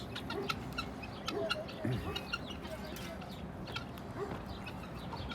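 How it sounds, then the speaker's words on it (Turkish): Guinea fowl call in scattered bursts on a village farm, mixed with clucking chickens and birdsong, fairly faint and set against steady outdoor background noise. "Buradaki en sevdiğim kanatlılar beçler."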